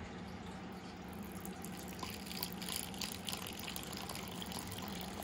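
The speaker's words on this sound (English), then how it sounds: "pour some water in here." Water is poured into a tarantula's water dish inside its enclosure, a faint, continuous trickling and splashing that stays soft and low throughout.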